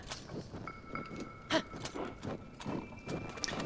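Hooves clip-clop unevenly while a horse whinnies briefly in Zelda: Tears of the Kingdom, with faint game background ambience.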